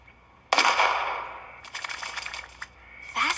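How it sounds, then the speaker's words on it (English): A cartoon seed shotgun fires with one sharp blast that rings and decays over about a second, followed by a rattling, clattering burst as the load scatters, with no talk. "you say your seed shotgun will allow a single worker to plant an entire field with one shot?"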